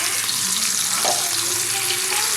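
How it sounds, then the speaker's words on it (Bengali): Fish fried on a tawa gives off a loud, dense, unbroken sizzle close up, with a brief stirring scrape partway through. "মাছগুলো আমার ভাজা হয়ে গেছে প্রায়।"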